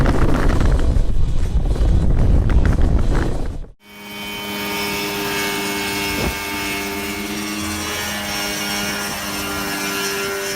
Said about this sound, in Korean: 이 사람은 집에서 만든 헬리콥터를 타고 일몰 속으로 날아갑니다